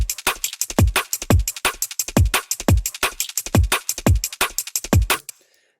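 A liquid drum and bass loop plays at a quick tempo, punchy kicks and snares layered with crisp hi-hats, shakers and triangles, loud and steady before cutting off near the end.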